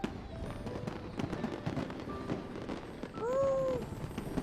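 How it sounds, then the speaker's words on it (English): Video game fireworks crackle and pop in a continuous rattling stream, with a short rising whistle toward the end over a low background hum. "Fireworks, pretty fireworks."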